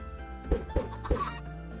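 Minecraft chickens on a farm give three short clucks in quick succession, close and fairly clear over a steady low background hum.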